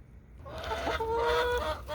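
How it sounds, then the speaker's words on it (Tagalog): Several chickens cluck and squawk at close range as they are let out of their coop, a busy run of overlapping calls over a low background. "Okay, mga manok, gusto niya nang lumabas?"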